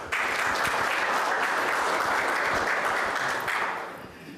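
Loud audience applause welcomes a sheriff's sergeant at a community safety meeting, dense steady clapping that fades toward the end.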